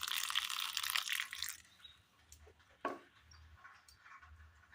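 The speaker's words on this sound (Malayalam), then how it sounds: "വെള്ളം ഒഴിച്ചു കൊടുക്കാം." Water poured into a dough of grated coconut, green chilli, curry leaves and salt for a Kerala snack gives a steady close splashing hiss for about a second and a half, then stops, followed by a few faint clinks.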